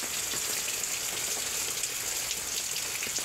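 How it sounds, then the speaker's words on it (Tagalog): Steady, dense hiss of heavy morning rain pouring down, constant and enveloping with no voices or breaks. "Lakas yung ulan ngayon, umaga."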